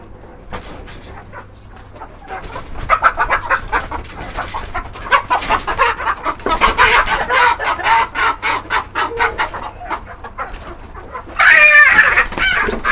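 Chickens cluck steadily in a noisy, busy stretch, their rhythmic calls building up, with a louder squawking burst near the end.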